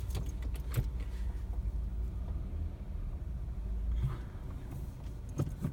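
A car with a leather interior and steering wheel creeps forward a short distance, a low steady engine rumble underneath with faint interior clicks and rattles, no talking.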